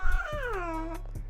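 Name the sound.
cat meowing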